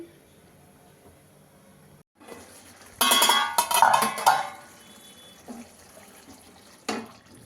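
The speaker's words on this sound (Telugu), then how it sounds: "నేను ఒక గ్లాస్ వాటర్ అయితే వేసేస్తున్నాను" A glass of water is poured into soaked tamarind in a pan for egg curry: a single splashing pour of about a second and a half, followed by a couple of faint clinks in a quiet kitchen.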